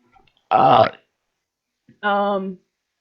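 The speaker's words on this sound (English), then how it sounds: "Gotta burp on command every time." A person burps on command at a tabletop roleplaying session, one short harmonic belch standing alone after a brief burst of voice.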